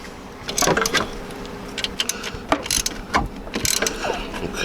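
A 7mm alternator nut being snugged down on a Jeep Wrangler TJ, heard as close, uneven ratcheting clicks and metallic taps in short bursts with brief pauses between.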